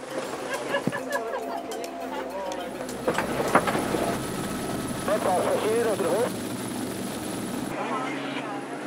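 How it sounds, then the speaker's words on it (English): Helicopter hovering overhead during a chairlift rescue exercise in Grindelwald, where rescuers hang from it on a 30-meter rope; a steady, loud rotor drone runs throughout beneath people talking nearby. "the rescuers are attached to a helicopter via a 30-meter rope"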